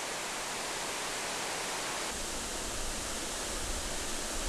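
A waterfall on a mountain trail in Nonsan, South Chungcheong, pours into a pond below and roars as a dense, steady rush of water with no pauses and no voices.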